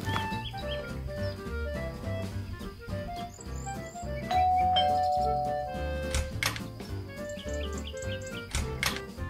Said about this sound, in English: She rings the doorbell